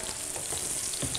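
Eggplant slices fry in oil with a continuous close hiss and crackle, and faint stirring bumps break through briefly.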